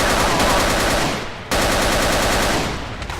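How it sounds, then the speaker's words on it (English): Rapid automatic gunfire from pistols and assault rifles in a Battlefield combat game, loud and dense, with sustained rattling bursts that dip briefly before resuming at full intensity. "using our pistols and assault rifles, all the weaponry at our disposal, to defeat these forces"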